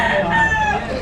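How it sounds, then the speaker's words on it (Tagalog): A fighting rooster kept in a cage on a city sidewalk crows loudly and close, a single sustained call with strained harmonics that tapers off at the end. "ito nga ay ginawang lagayan ng mga manok na panabong sa loob"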